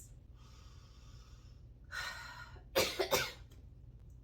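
Two or three harsh coughs from one person, close and fairly loud, bursting out after a short breathy exhale, with a faint tonal hum early on.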